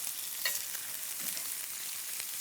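Burger sliders searing in a cast iron skillet give off a dense, even sizzle, close and steady throughout, with one brief scrape near the start and no voices.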